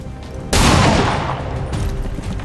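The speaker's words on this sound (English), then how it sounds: "Taking fire." Gunfire in the video game XCOM 2, a sudden loud burst of shots that erupts and then rolls on as a sustained, dense fusillade, close and filling the scene without talk.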